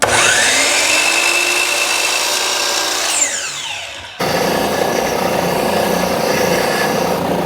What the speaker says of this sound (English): So now we just need to cut a piece of dowel to length.